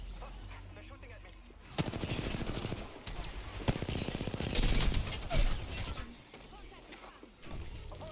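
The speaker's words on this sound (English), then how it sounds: "They're shooting at me." Rapid automatic gunfire and crashing impacts during a shooter video game, dense bursts of shots rising and falling over several seconds, with excited talk from the player mixed in.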